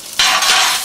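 Crushed roast potatoes hit hot fat in a pan and are stirred, setting off a sudden loud burst of sizzling that holds steady and close with no voices.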